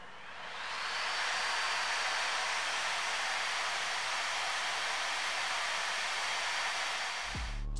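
An Acer Predator Helios 300 gaming laptop runs its cooling fans in turbo mode, a loud, steady, airy rush that swells up within the first second, holds evenly and cuts off abruptly near the end.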